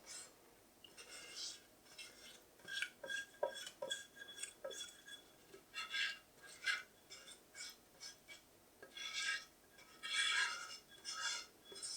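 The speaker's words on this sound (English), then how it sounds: "Use our spatula to scrape down the edges and the bottom of the pan, making sure we get as much of that brownie mix as possible." A spatula scrapes brownie batter from the edges and bottom of a baking pan, giving quiet, intermittent scraping strokes and light metallic clinks in an uneven rhythm, close and soft.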